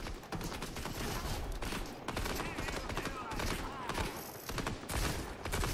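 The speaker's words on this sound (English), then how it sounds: "I like Stark's Industries rifle," Stark Industries rifle in Fortnite Chapter 5 zero build, a dense, continuous stream of rapid automatic gunfire with overlapping shots and impacts, loud and busy throughout, with no voices.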